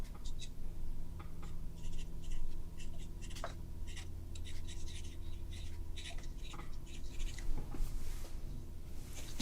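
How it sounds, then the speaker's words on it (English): Pen or pencil scratches across paper as a note is written by hand during a watercolor painting session, faint, quick strokes in short bursts under a low steady background hum. "Let me make a note of that."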